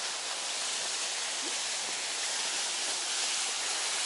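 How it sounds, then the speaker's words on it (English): Artificial waterfall in the Malaga Botanical Gardens, a steady broadband rush of falling water that holds at one even level throughout, with no voices over it. "Oh, yeah, there's the waterfall there."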